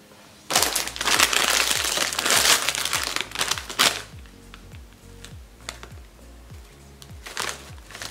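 A plastic wrapper on a package crinkles and crackles loudly as it is torn open up close, with an intense burst of rustling followed by quieter intermittent crinkles and small snaps.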